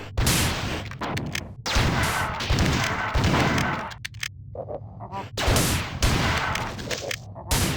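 Loud mechanical clacks and heavy shotgun blasts from a double-barreled shotgun being fired and reloaded in the Marathon 2 video game, coming in quick repeated bursts with brief gaps between them.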